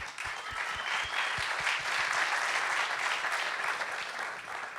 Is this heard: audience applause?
yes